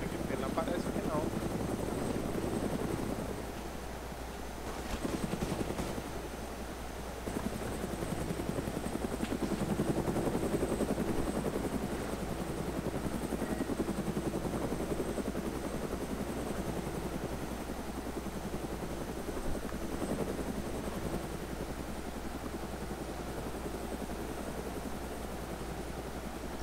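Steady rotor thrum of a helicopter in a video game runs throughout with a constant engine drone, while people talk over it.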